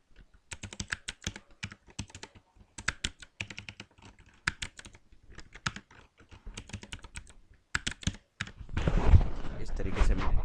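Rapid keystrokes on a computer keyboard while text is typed during a basic computer lesson, close and distinct clicks in uneven bursts, ending in a louder rustle of handling noise.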